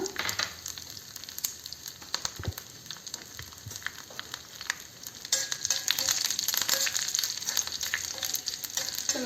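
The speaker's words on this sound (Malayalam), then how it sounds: "കടുക് പൊട്ടി വരുന്നുണ്ട്. കരിവേപ്പില ഇടുക." Mustard seeds crackle and pop in hot oil before curry leaves and two or three dried red chillies go in, a busy spattering sizzle that grows louder and denser partway through.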